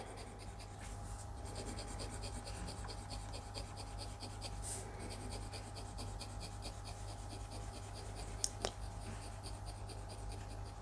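A Hero fountain pen nib scratching across expensive paper, producing faint, steady rasping strokes close to the microphone over a low constant hum, with no talk.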